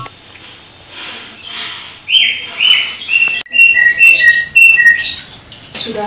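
Birds chirp and call in a string of sharp, bright tweets, fairly loud and close, with no voices.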